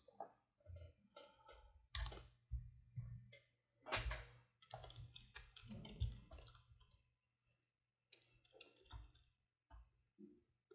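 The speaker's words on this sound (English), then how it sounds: "Let's type the email address." Someone typing an email address on a computer keyboard: quiet, irregular bursts of close key clicks with short pauses between strokes.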